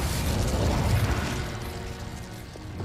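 An Incendio fire spell is cast in the Hogwarts Legacy game: a loud, rumbling whoosh of flame bursts out at once, then slowly thins and fades over a few seconds.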